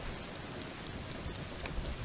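Steady rain storm in Zelda Ocarina of Time, summoned by the Song of Storms, a continuous broadband hiss of falling rain with no talk, holding at an even level throughout.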